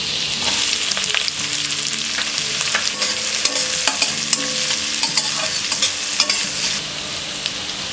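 Cumin, green chilies and chopped onion fry in hot oil on medium flame. A bright, continuous sizzle runs under repeated scraping stir strokes with scattered crackles, close and loud, and no talking.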